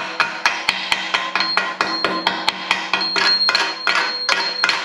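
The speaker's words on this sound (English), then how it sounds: "If I could find myself a chip and hammer" Rapid, sharp metallic knocks of a chipping hammer striking slag off a flux-core weld on a frame, about a dozen hits in irregular rhythm, close and loud.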